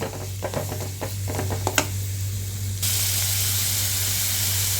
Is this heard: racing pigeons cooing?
no